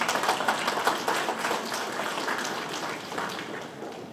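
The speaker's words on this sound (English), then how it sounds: "If you can give a round of applause for Oscar Garcia" An audience at a 33rd anniversary awards and recognition ceremony applauds with steady, dense clapping from a sizable crowd that runs throughout and gradually eases off, with no voices over it.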